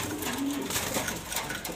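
A pair of young pigeons coo softly amid a busy, noisy background, with one brief low coo standing out near the middle.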